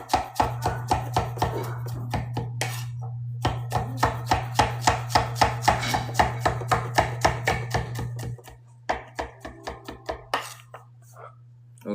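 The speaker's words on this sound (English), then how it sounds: "mince this up real good, and then we're gonna go right into the garlic" A knife mincing garlic on a cutting board, quick, evenly spaced chops in a steady close rhythm for about eight seconds, then slower scattered taps, over a low constant hum from the stove.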